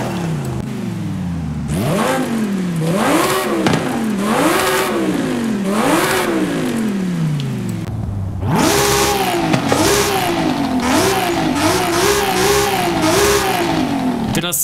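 Audi car engine with its stock motor in the Forza Horizon 5 racing game, revving repeatedly in rising and falling sweeps through the gears, loud and close, with a short lull before another run of hard acceleration and shifts.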